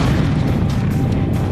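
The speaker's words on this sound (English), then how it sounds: "Whereas the classic movie explosion" A classic movie explosion effect roars as a loud, dense, sustained rumble across a broad spread of sound, with no sharp onset and no voices.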